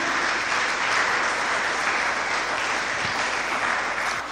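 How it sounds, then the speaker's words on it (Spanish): Church congregation applauds in worship, a loud, dense wall of steady clapping sustained without a break for several seconds, no voices standing out. "denle ofrenda de palmas al Señor."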